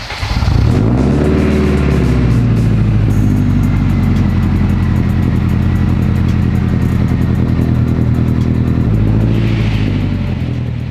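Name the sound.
Honda Civic Type R AWD driving and revving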